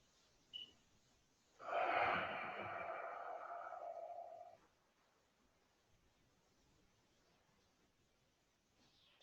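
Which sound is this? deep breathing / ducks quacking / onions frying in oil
deep breathing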